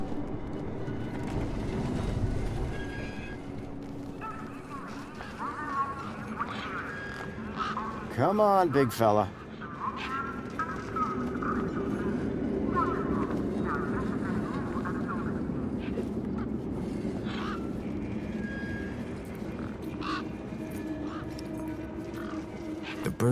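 Tough desert birds in the game Beyond a Steel Sky give a harsh honking, goose-like call midway, a short loud squawking burst over ambient game sound, with someone speaking quietly nearby.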